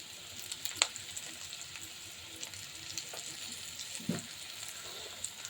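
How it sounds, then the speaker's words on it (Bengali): Vegetable bhaji with chili and onion sizzles steadily in a hot pan, a faint, even frying hiss broken by a few soft stirring clicks, heard close with no talking. "একটা ভাজি বসাবো, তার জন্য মরিচ পেঁয়াজ দিয়ে দিয়েছি।"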